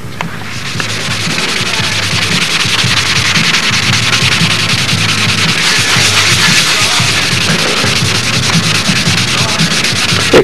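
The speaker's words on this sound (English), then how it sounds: "It cuts a little bit better with the Sickens M600 than it would, this is 600 sandpaper" Clear coat on a model B-25 fuselage is hand sanded with 600 grit sandpaper, a loud steady rhythmic scrubbing that continues for about ten seconds.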